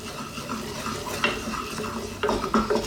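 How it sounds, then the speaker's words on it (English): A butter and flour roux for white sauce is stirred in a pan. It gives a steady, soft scraping swish with light sizzling underneath and a few sharper clinks near the end, close by and with no speech. "Keep stirring."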